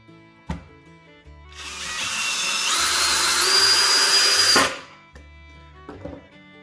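A power drill drives a screw into the wooden roof of a mason bee house, whirring for about three seconds with a rising pitch. A sharp knock comes before it and a few light taps after.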